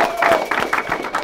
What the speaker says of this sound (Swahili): Makofi kwake sister jamani.